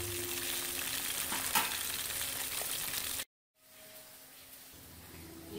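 Rohu fish frying in oil, a loud dense close sizzle that cuts out briefly, then returns quieter and softer after the pieces are turned, with no talking.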